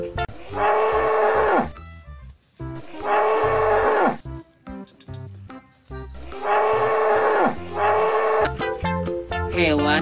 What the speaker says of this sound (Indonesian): Kalau yang ini namanya kerbau nih teman-teman.